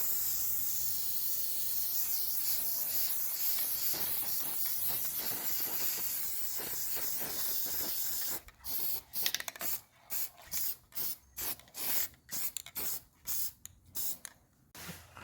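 A spray can hisses in one long continuous burst while painting lag bolts for a factory cart, then breaks into a series of short, close, evenly spaced sprays.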